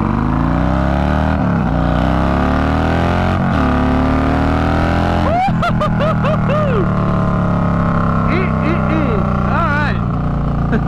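A Harley-Davidson bagger with a 131ci crate motor and big throttle body idles steadily and loudly up close, with a deep continuous rumble and a few short throttle blips partway through.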